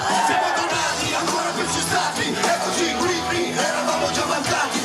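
Crowd of 10,000 at a rap concert at Villa Bellini in Catania, a loud, dense roar of yelling and cheering that stays steady and continuous without pause.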